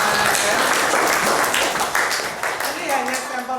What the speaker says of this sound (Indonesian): Tepuk tangan untuk Nain